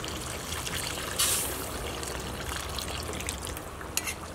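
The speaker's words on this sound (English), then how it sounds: "so I'm going to add in a little bit more water" Water trickles and splashes steadily into a pot of boiling goat curry, a continuous hissing pour with a brief sharper splash partway through.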